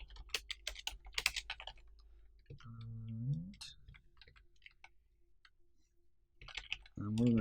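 Fingers type code on a computer keyboard in quick bursts of close, crisp key clicks, with a pause in the middle. A voice speaks briefly between the bursts.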